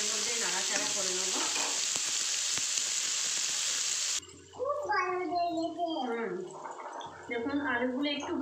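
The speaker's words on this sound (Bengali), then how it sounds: "1-2 মিনিট একটু তেলের মধ্যে নাড়াচাড়া করে নেব।" Potatoes stirred and fried in hot oil in a pan for a bean-seed curry hiss in a loud, steady sizzle that fills the first half, then quieter sizzling and scraping continue under a person talking.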